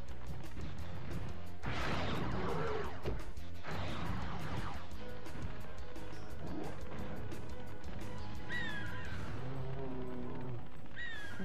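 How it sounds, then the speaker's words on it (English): Shrill, wavering pterodactyl cries like gull calls ring out over a busy Spyro 2: Ripto's Rage game soundscape of crashes, splashes and rumbling effects. "I like how the pterodactyls sound like seagulls."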